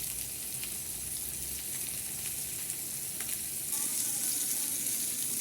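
Macaroni being stirred as it fries in a pan, a steady bright sizzle with scraping stir sounds throughout, close and fairly quiet, no talking.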